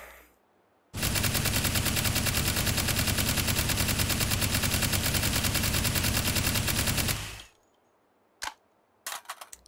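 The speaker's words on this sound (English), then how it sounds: "let's shoot off this gun" A gun in the VR game Hot Dogs, Horseshoes & Hand Grenades fires one loud, unbroken automatic burst lasting about six seconds. It stops abruptly, and a few sharp mechanical clicks follow in near silence.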